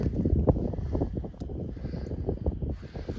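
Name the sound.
wind blowing on a farm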